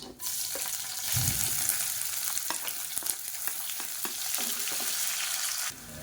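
Long-cut medium onion frying in hot oil for a Tamil masala coconut rice dish, with a constant bright sizzle and crackle, sharp clinks and scrapes of a spoon stirring the pan, and a short dip in the sizzle near the end.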